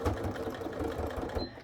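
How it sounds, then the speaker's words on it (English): A sewing machine with a standard foot stitches faux leather for an iPad bag, running in a steady, close, rapid mechanical chatter for under two seconds. "Just going to use a standard foot, and I'm going to stitch that about half an inch."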